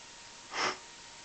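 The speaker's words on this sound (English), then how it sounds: "Sorry about the sniffling" A single short sniff through the nose, close and fairly loud, lasting about a quarter second against a quiet indoor room.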